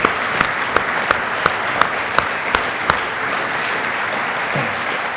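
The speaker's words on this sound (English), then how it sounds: "So please give him another round of applause." Summit audience gives a round of applause, continuous clapping from a large crowd, with a few sharp, louder claps standing out near the start before the sound settles into an even, sustained wash.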